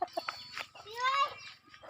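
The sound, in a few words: chickens and chicks clucking on a farm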